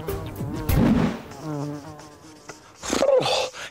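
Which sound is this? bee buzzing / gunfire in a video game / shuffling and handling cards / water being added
bee buzzing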